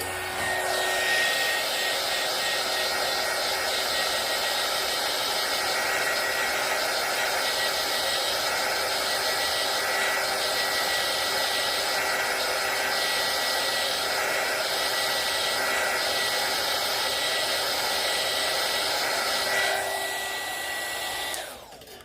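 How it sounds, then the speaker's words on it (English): A hair dryer blows steadily to dry off UV resin key rings, a loud continuous whirring hiss that runs unbroken for about twenty seconds before cutting off near the end. "Okay, hold y'all's ears. I'm going to dry these off."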